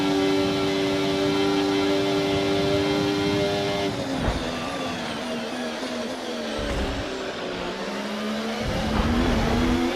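A Formula 1 car in the F1 24 racing game screams at high revs with rising and falling engine tones, shifting through gears with sharp drops in pitch and brief tire noise, loud and continuous without voices.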